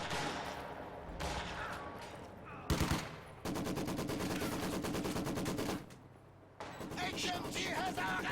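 Heavy machine gun fire in a tank combat video game, loud sustained automatic bursts with a sharp blast, a brief pause, then more continuous firing.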